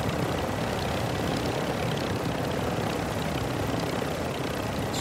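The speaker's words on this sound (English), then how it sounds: "This chopper's gonna die soon." A helicopter in Call of Duty DMZ gives a steady, dense rotor and engine roar that fills the whole stretch evenly, close and unbroken.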